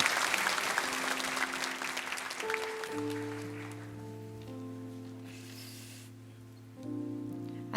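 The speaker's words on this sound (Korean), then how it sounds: "우리 큰 박수로 맞아주시기 바랍니다." A church congregation applauds as a speaker is welcomed forward, a dense patter of clapping that is loud at first and gradually thins out while a sustained organ or keyboard chord enters and holds underneath.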